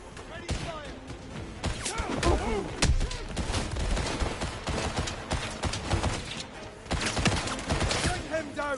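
A volley of gunfire crackles in dense, loud, overlapping bursts, with shouted voices mixed through the shooting.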